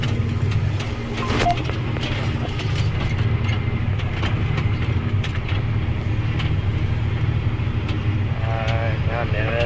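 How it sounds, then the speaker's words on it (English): A tractor pulling a hay tedder drives near a dairy, its engine a steady, loud low rumble and drone throughout, with brief clanks and rattles over the top. "I got the tractor and tedder back up to this open area by the dairy"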